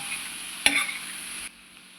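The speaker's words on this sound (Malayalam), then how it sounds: "ഉപ്പിട്ട് കൊടുത്ത് നല്ലത് ഒന്നുകൂടെ ഒന്ന് ഇളക്കുക" A brief clatter of a spoon stirring a salted mixture in a pan sounds once over a faint steady sizzle, quiet and close.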